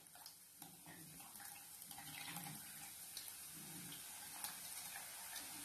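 Kara boondi batter dripping from a ladle into hot oil, giving a soft, continuous sizzle and bubbling hiss at low level with faint scattered pops.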